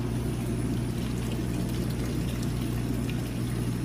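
Nutrient water trickles and pours from the top channel down through a stack of hydroponic propagation channels, a steady close gurgle over a low pump hum, with no talking.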